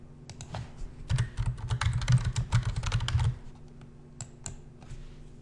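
Rapid typing on a computer keyboard while entering a search term, a dense run of close, crisp key clicks for about three seconds, then a few isolated taps, with no talking.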